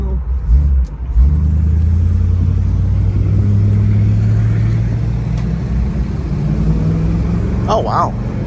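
A 1963 Chevrolet Impala SS convertible V8 runs at quarter throttle, giving a steady low rumble close by. A brief dip comes early and people talk faintly over it.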